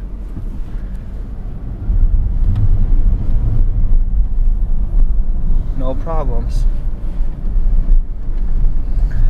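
A Ford F-250 truck in first gear with overdrive, its low engine and road rumble steady throughout and louder after the first two seconds, with wind buffeting and someone talking briefly over it.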